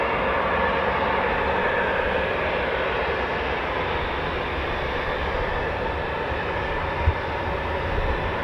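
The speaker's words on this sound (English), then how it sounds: "rolling with an Embraer from the Walton Aerodrome" A BAe Systems Embraer jet bound for Walton Aerodrome, departing near RAF Coningsby, gives off a continuous broadband engine roar at moderate level with no talking.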